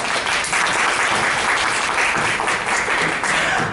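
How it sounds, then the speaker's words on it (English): An audience at a hypnosis talk breaks into loud, sustained applause, a thick even wash of many hands clapping at once, holding steady throughout with no pause. "Give him a round of applause."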